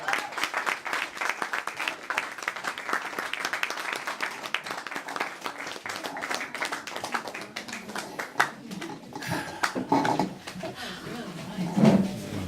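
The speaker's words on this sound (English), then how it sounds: "Clap it up." Audience applause and clapping at an evening event, a steady dense patter of many hands that thins out toward the end as a few voices and cheers come through.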